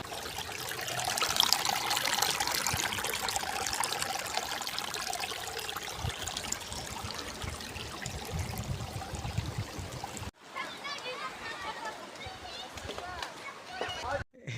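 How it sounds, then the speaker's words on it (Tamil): A river runs through a tea plantation in Valparai, its flowing water making a close, continuous trickling and rushing sound, with voices talking over it. "நடுவில் பார்த்தீங்கன்னா ஒரு ஆறு ஓட்டிகிட்டு இருக்குது."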